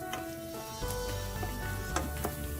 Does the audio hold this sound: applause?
no